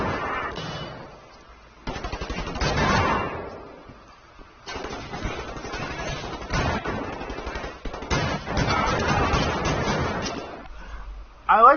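Gunfire from a Nazi-themed shooter video game, with repeated rapid bursts of shots spread through the stretch, broken by short pauses. A person talks over the firing, and the sound is muffled and thin.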